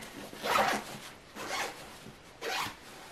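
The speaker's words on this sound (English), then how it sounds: "I need to do that zipper too, actually." A packing cube zipper is pulled open in three separate strokes, each a short rasping burst with brief pauses between them, close and clear with no talking.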